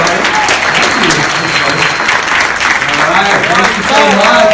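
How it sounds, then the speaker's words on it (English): A crowd at a live credit seminar applauds loudly and steadily, dense clapping filling the room while voices carry over it. "give him a loud round of applause"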